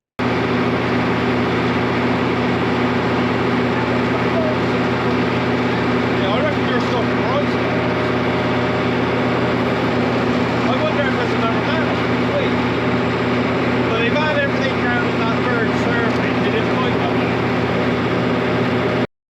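A sewer jetter runs at a flooded storm drain pipe, giving a loud, steady engine and pump drone that holds without a break.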